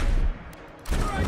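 Gunfire from Wizard with a Gun, played on max difficulty, a loud dense burst of rapid shots, a short pause, then another sustained volley, with a voice faintly present.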